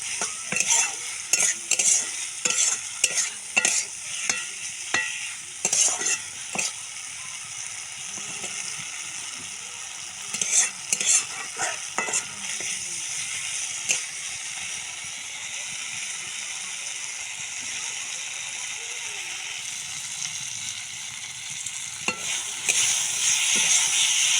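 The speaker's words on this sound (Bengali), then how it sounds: "আলু আলুগুলো দিয়ে একটু কষাবো" Potatoes sautéing in a pan for a cumin-paste fish curry, with a steady sizzle under repeated clattering scrapes of a spoon stirring, close and moderately loud, coming in irregular bursts throughout.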